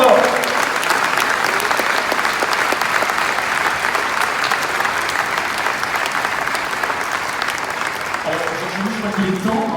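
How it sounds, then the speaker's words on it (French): Audience at a Belgian party congress applauding loudly and steadily for nearly ten seconds, a dense sustained clatter of many hands that thins slightly near the end as a voice begins speaking over it. "vous pouvez les applaudir bien fort"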